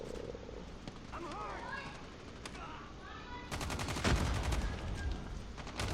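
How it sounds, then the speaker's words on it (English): Gunfire in the mobile game Call of Duty Mobile, with rapid automatic bursts that swell louder in the second half, playing alongside a person talking over the game audio. "that's one more kill, and it's a headshot"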